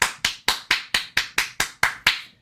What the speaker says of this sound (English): Let's give Doja Cat a round of applause